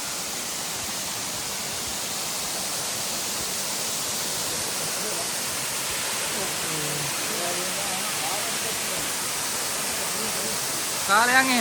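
Waterfall in the Kotaganga cascade chain in the Knuckles range of Sri Lanka, a constant broad rushing roar of falling water throughout, with a brief voice at the very end.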